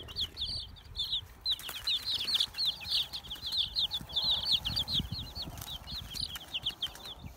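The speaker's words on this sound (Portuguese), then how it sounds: "Aqui tem 50 pintinhos e hoje eles estão com 5 dias." About fifty five-day-old free-range chicks peep together in a continuous, fairly close chorus of high, rapid chirps, with soft rustling and shuffling beneath and no talking.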